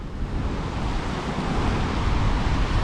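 Ocean waves and gusting wind roar continuously at Sunny Isles Beach, Florida, during a June 2022 tropical storm, a dense, loud wash of surf and wind buffeting the microphone, with no voices.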